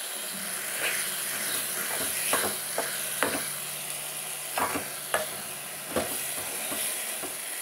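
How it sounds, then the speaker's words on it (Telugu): Ridge gourd pieces frying in a pan for chutney, a steady close sizzle with scattered sharp clicks and scrapes as they are stirred, no talking. "బీరకాయ ముక్కలు ఈ రకంగా ఉడుకుతున్నాయి కదండి"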